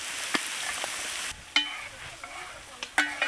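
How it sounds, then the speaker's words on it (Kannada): Fresh peas and vegetables roasting in hot oil, a soft sizzle broken by a few sharp scraping stirs of a spoon against the pan, close by and without voices. "ತರಕಾರಿ ಕಾಳು ಚೆನ್ನಾಗಿ ರೋಸ್ಟ್ ಆಗೈತೆ ಎಣ್ಣೆಲಿ"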